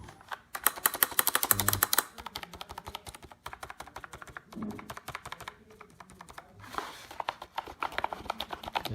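Rapid, close clickety-clack typing on a Perixx Periboard 614 wireless mini keyboard with round keycaps, in quick bursts of keystrokes, with a brief spoken remark in between.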